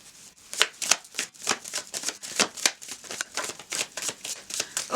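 Tarot cards being shuffled by hand, a rapid run of crisp riffling and flicking bursts repeating steadily and close, with no talk over it.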